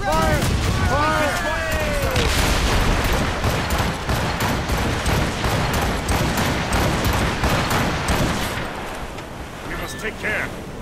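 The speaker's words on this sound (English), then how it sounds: "Cannon ready! Fire! Fire!" Rapid, overlapping ship cannon blasts in Assassin's Creed Rogue boom one after another in a dense naval barrage, with shouting voices layered over the constant gunfire.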